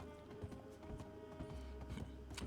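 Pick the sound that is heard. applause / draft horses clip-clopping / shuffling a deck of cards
draft horses clip-clopping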